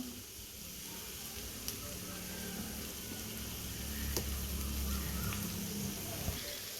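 Vegetables sautéing in a pan for restaurant-style chicken fried noodles, giving a steady, moderately quiet sizzle that runs throughout, with a couple of faint clicks and no voices.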